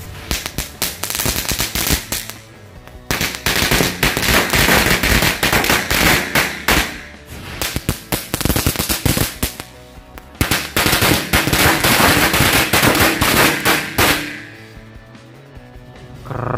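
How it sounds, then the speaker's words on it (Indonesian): Four kinds of mercon korek firecrackers set off for Lebaran 2024, bursting in dense, rapid crackling volleys that run loud for about two seconds, pause, surge again for several seconds, then trail off. "Berhasil menyala 4 jenis mercon korek."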